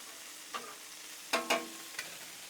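Burgers and onions sizzle on a Blackstone griddle in a steady close hiss, broken by a few sharp spatula scrapes and taps.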